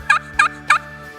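Friction turkey call played on its crystal side to imitate a hen turkey: three sharp, evenly spaced high yelps ring out loud and clear over a faint steady hum.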